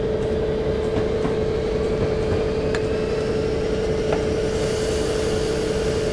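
Amtrak F40PH locomotive rolling downhill in Train Simulator, a steady loud rumble and engine drone with a sustained tone running throughout, occasional faint clicks on top, no talking.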